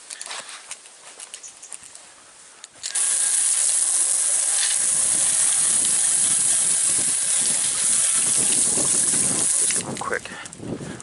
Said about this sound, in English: we'll give the panels a quick wash off